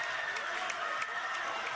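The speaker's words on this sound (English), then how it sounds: "Crowd rising to their feet, making some noise, looking for a stop." A college basketball crowd, Southern Utah University against Northern Arizona, roars and claps in a steady, dense wash of cheering and applause filling the arena, loud and continuous.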